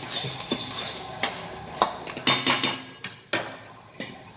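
Metal clanks and knocks sound as a lid goes onto a pan of vegetable upma, a close, irregular series of sharp clinks and rattles with no voices.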